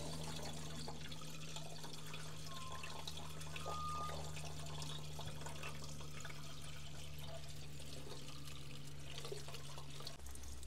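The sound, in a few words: water leaking from a rusted hose on an old tip truck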